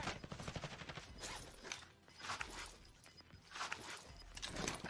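Gunfire in Call of Duty Warzone crackles in quick, faint bursts and scattered shots, with a muffled rumble beneath and no clear talk over it.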